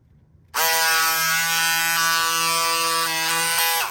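Cordless pink electric power scissors cutting through folded marine vinyl, a loud, steady motor buzz that starts abruptly and holds for about three seconds with a slight dip in pitch as the blade works, then cuts off, close up and with no talk.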